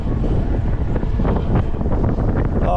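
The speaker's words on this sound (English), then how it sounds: "it's windy as fuck." Strong gusty wind buffets the microphone while riding a Starrun S20 52V e-bike, a continuous loud low roar with no talking.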